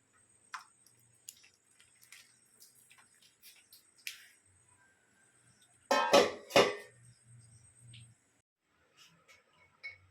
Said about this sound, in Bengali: এই যে ঝাঁচড়িতে জল ঢেলে দেবো, ঝাড়তে দেবো এটা।